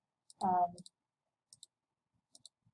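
Number keys tapped on a calculator or keyboard while entering a value, as a few sparse, crisp clicks separated by pauses, with one brief voiced sound early on.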